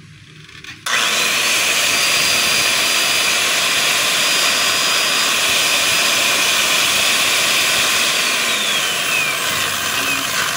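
A DeWalt D25899 10 kg jack hammer switched on and left running with its casing open, starting abruptly after a short quiet moment, then a loud steady motor whine and rattle close by, with no talking.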